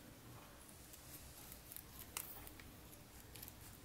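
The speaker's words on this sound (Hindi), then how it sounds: "काट लेंगे फर्स्ट कैंची की मदद से" Scissors snip open a Gits ready-meal dal tadka pouch, giving a couple of short, crisp cuts over a steady background hiss, close and fairly faint, with no talking.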